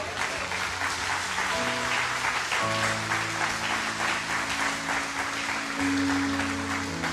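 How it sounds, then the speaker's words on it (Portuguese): Church congregation applauding during a sermon, a steady wash of many hands clapping at moderate distance, with sustained musical tones from a keyboard or organ underneath. "isso, aplauda o Senhor"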